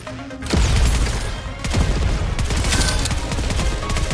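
Gunfire from the Goddess of Victory NIKKE video game erupts as loud, dense, continuous bursts of rapid shots after a brief quiet start, close and unbroken through the rest.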